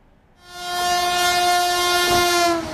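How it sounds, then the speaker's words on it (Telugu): A Vande Bharat sleeper train on a trial run, built for speeds of 130 to 180 km/h, sounds a loud, sustained horn blast nearby that swells in quickly and holds steady. "కనిష్టంగా 130 కిలోమీటర్లు, గరిష్టంగా 180 కిలోమీటర్ల వేగంతో మన రైలు పట్టాలపై పరుగులు పెట్టబోతోంది"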